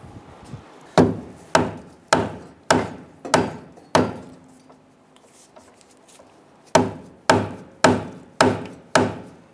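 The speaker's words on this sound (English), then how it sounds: "I'm going to go ahead and tap this a little bit to see if we can get that bolt to loosen up." A rear suspension bolt on a 2005-2010 Chrysler 300 is struck repeatedly with a hammer, giving sharp, close metallic knocks in two evenly spaced bursts separated by a quiet pause.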